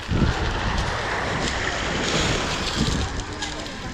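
Sea waves and wind on the beach at Koktebel, a steady broadband wash of surf with gusts buffeting the microphone, continuous and fairly loud.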